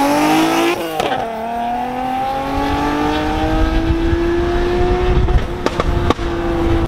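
Lexus IS300 engine droning through a muffler with a built-in silencer, a steady loud exhaust note climbing slowly in pitch after a brief dip near the start, with a few sharp knocks and pops late on.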